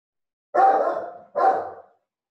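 A dog gives two sharp, loud barks close by, about a second apart, with silence before and after.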